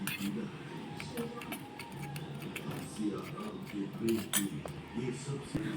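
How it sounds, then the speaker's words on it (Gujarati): A spoon scrapes and clinks against a metal pot as a spice paste with salt and asafoetida is stirred for a Kathiyawadi tomato and sev curry, giving close, irregular utensil taps under steady talking. "હવે આપણે બધું પેસ્ટને એકવાર હલાવી દઈશું"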